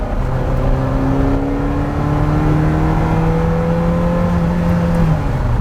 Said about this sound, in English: I'm gonna give it a little gas here.